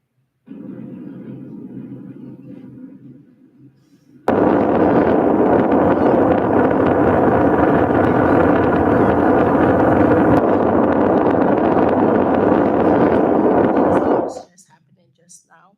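NASA SLS RS-25 rocket engine test firing: a sudden, loud, sustained broadband roar that starts abruptly after quieter rumbling and holds steady for about ten seconds before cutting off, with a voice heard faintly around it.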